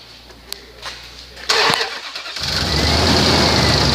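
2003 Dodge Ram 1500 pickup with 84,758 miles cranking over, catching with a loud burst, then settling into a steady, close engine run.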